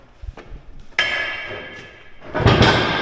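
A sledgehammer strikes a Deere 755K track crawler loader. A couple of metal hits ring out, each followed by a bright, lingering resonant ring that slowly fades.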